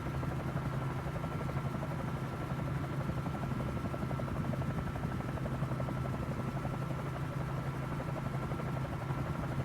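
A Bell 47J Ranger helicopter flies in Microsoft Flight Simulator, its rotor and engine giving a constant, even thudding drone at moderate level with no talking.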